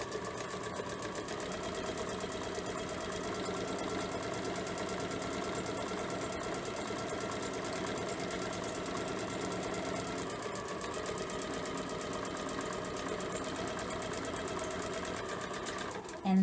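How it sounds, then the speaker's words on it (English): A sewing machine stitches the seam of a fabric market tote bag with a rapid, steady mechanical whirr that continues evenly for the whole stretch. "So I'm just going to start stitching this, and we'll start on this end."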